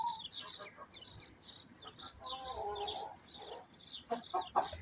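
Sussex chickens in a coop give a run of high chirping calls and a few soft clucks, fairly close, with low background noise.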